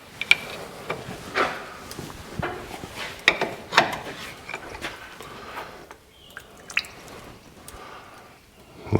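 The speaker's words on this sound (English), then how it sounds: "the sludge is oozing out the back" Wet squelching and gurgling as thick oily sludge drips and oozes from the drain plug of an Allis Chalmers motor grader engine, with scattered splats and a few sharper knocks, no talking.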